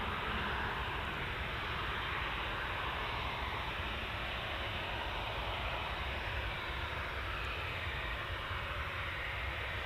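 A Ryanair jet airliner departing for London Gatwick, a steady broad engine roar heard from a distance that holds constant throughout with no voices.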